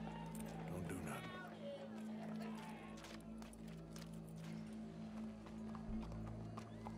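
Horse hooves clop in Red Dead Redemption 2, a steady patter under a low hum and game ambience, with voices talking over it.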